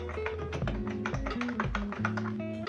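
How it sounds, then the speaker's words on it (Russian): Fast typing on a ThunderX3 TK40 mechanical keyboard, a rapid run of crisp, clacky keystrokes up close, steady and alone, with some resonant low tones in the background. "если вы не будете раздражать своих коллег такими шумами от вашей клавиатуры"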